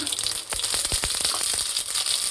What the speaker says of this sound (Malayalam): ഒഴിക്കുള്ള വറവിന് വേണ്ടി എണ്ണ ഒഴിക്കുകയാണ്. ചൂടായി വന്നിട്ടുണ്ട്. അതിലേക്ക് കടുക് ഇട്ട് കൊടുക്കുക.